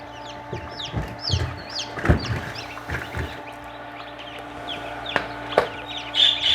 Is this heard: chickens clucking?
yes